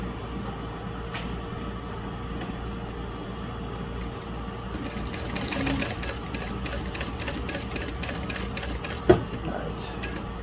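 A Juki DU-1181N sewing machine stitches through vinyl. After a quiet start it breaks into a rapid, steady mechanical chatter of needle strokes, with one sharp knock near the end.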